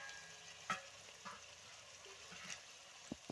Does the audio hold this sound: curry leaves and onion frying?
yes